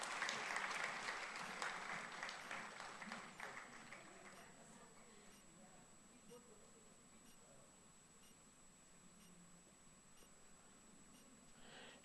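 Graduation ceremony audience applauding and cheering for an award recipient, loudest in the first few seconds and then tapering to a faint, scattered patter over room noise, with a steady high electronic tone running throughout.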